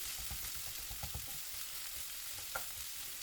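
Chopped onions sautéing in hot oil in a pan, a soft steady sizzle with faint rhythmic stirring knocks, fairly quiet throughout.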